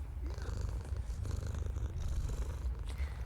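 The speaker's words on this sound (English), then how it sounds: "Letting out some of the loudest purrs I've ever heard, it drops its face all over my palm." A cat in a video game purrs loudly and continuously, a close, rumbling low vibration with a steady rhythmic pulse that lasts throughout and has no talking over it.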